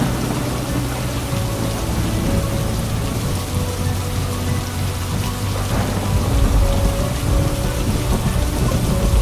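Steady heavy rain pours with low rolling thunder rumbling underneath, a dense continuous storm wash with no voices, as a dramatic story effect.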